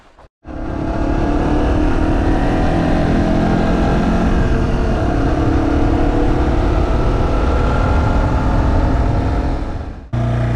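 A Yamaha TW200 dual-sport motorcycle engine drones loudly and steadily while riding, with wind rush over a constant roar that cuts off abruptly near the end.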